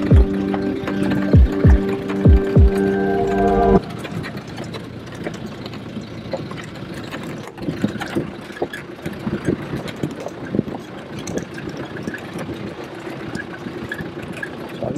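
An off-road vehicle crawls slowly down a rough mountain track in the Pyrenees, a low steady engine rumble with bumps and rattles, following a few seconds of sustained tones at the start.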